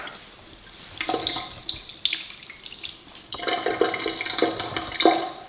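A weak stream of water runs from a tap in an abandoned building, splashing and trickling unevenly into a sink, fairly close, with no one talking.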